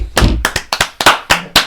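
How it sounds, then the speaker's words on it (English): A few people clap for a friend on a casual podcast: a short run of sharp, close hand claps, uneven and loud, lasting under two seconds. "Everybody clap for Kyle."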